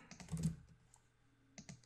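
Typing on a computer keyboard while entering an email address: a quick cluster of key clicks, a pause, then a few more taps, close and fairly quiet with no talk.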